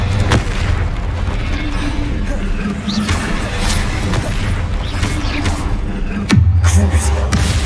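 Bombarda blast spell in Hogwarts Legacy on PS5, amid other spell effects and combat noise, ending in a loud, sudden boom with a deep rumbling tail near the end.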